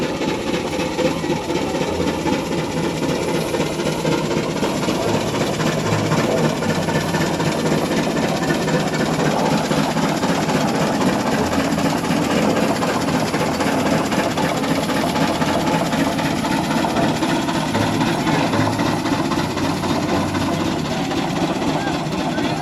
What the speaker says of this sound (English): Here was the all-girls plowing team with their steam traction engine. This one was pulling a 6-bottom plow deep in the dirt.